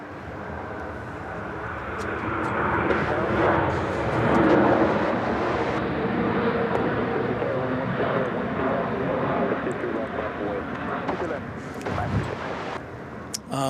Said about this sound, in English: We've got a plane coming in.